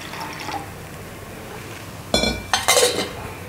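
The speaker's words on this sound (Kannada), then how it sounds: "ಸ್ವಲ್ಪ ನೀರು ಹಾಕ್ಕೊಳ್ಳೋಣ." Water splashes into a cooking pot set on the stove in two or three short close bursts with metallic clinks, after a quiet lead-in and with no talking.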